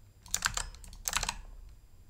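Typing on a computer keyboard, two quick bursts of crisp key clicks with a short pause between, close and fairly quiet, no talk.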